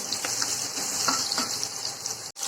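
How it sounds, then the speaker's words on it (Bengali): Chopped onion fries in hot oil in a pan for egg curry, a close, steady crackling sizzle with light pops throughout. "পেঁয়াজটা একটু লাল করে ভেজে নেব।"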